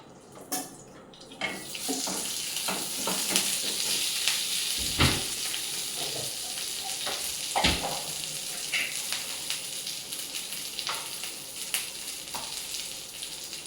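Oil pours into a pan and sizzles steadily while making Telugu-style idli podi with curry leaves, giving a continuous close frying hiss with a few sharp crackles and clatters and no voices.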